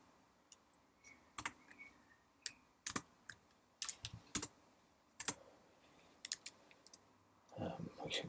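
Computer keyboard typing in scattered bursts of clicks and taps, fairly close but quiet, with a low background hum and a denser rustling patch near the end.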